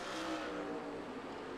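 Race cars at speed on an oval track near Spokane roar continuously and loudly, engines droning with a sustained high-revving whine through the short stretch, with no voices.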